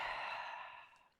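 A single long, soft exhale during a yoga sun salutation, a breathy airy rush that slowly fades over about a second, close and quiet, ending with a brief faint click.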